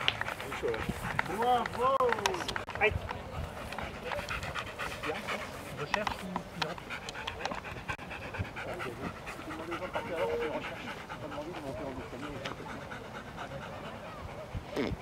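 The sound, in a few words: dog panting and running after obedience exercise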